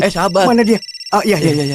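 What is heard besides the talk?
mobile phone ringing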